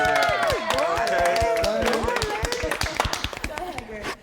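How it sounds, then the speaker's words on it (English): An audience applauds a host with scattered claps and some cheering, mixed under continuous voices and talk throughout. "I want to give a round of applause for her"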